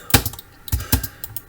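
Computer keyboard keys clacking in short irregular bursts during an interior architecture drafting session, several sharp taps close by with quiet gaps between them.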